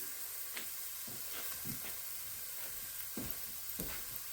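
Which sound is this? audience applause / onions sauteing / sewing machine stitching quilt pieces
onions sauteing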